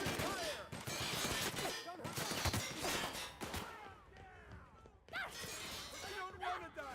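Bursts of gunfire in the sci-fi game The Outer Worlds, dense shots and impacts clustered in loud volleys with a brief lull before firing resumes, mixed with character voices talking over the combat.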